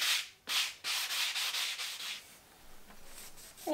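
Sandpaper rubs in several strong strokes across the wooden body of a handmade guitar, loud and close, then drops to softer, lighter scrubbing.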